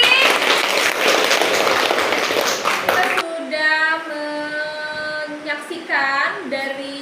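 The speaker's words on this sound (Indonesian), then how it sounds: "tepuk tangan lagi" Classroom applause bursts out for about three seconds as a dense patter of clapping, then stops abruptly as a voice begins talking.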